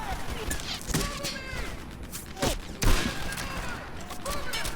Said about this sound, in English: Let's try the sniper rifle again.